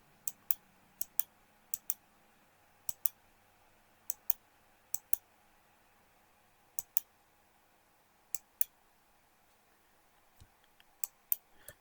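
A computer mouse clicks sharply in short bursts, mostly pairs, with quiet pauses between them over a faint hum, while a Maya model is being edited.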